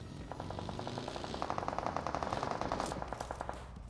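Rapid automatic gunfire from PUBG Mobile, a loud close burst of evenly spaced shots that runs almost the whole time, sharpening and speeding toward the end, with no talk over it.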